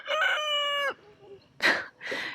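A rooster crows once, loud and close, its long call followed by a couple of short, harsh squawks, on a farm during duck processing.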